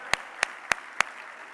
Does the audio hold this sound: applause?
yes